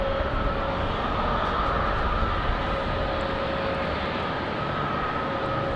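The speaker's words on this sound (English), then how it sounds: "the American 777 now turning final" An American Airlines Boeing 777 jet airliner on approach to a rainy airport gives a steady, loud engine roar with a sustained whine held throughout, with no talk over it.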